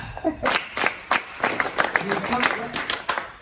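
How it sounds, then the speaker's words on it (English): In a rhythm lesson, a group plays sharp staccato hand claps in quadruple meter: a string of crisp, separate claps in a steady pulse, close and fairly loud. "we're just playing staccato claps"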